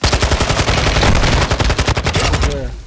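Rapid bursts of video game gunfire, including machine-gun fire, in a loud, continuous exchange of shots that thins out toward the end.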